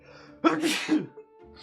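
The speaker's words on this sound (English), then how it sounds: "I'm gonna sneeze." A single loud sneeze from a person who says they are sick, with a sharp burst and tail lasting about half a second, followed by a faint breath; quiet game sounds sit in the background.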